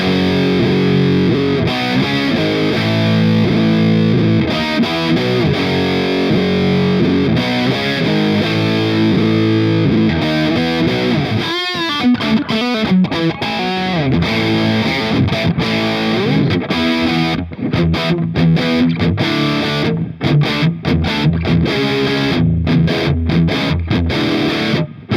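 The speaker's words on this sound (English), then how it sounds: "I want my DiMarzio in the bridge" A distorted electric guitar through its DiMarzio bridge pickup, on a 2019 Somnium Vision, plays loud, dense, continuous riffing with sustained chords and busier choppy passages throughout, with no voices.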